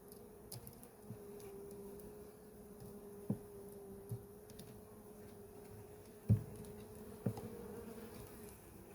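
Honeybees swarm over a heavy, honey-filled hive frame at an apiary, a steady close buzzing hum running throughout with a few soft knocks and clicks from handling the frame.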